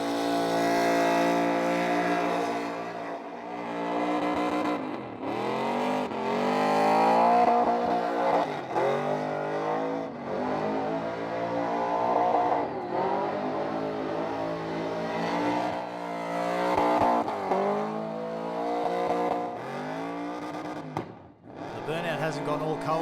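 A supercharged Holden Commodore does a burnout at a car show event, its engine screaming loud and close in long sustained revving waves with rises and drops, mixed with tyre noise and a commentator talking over it.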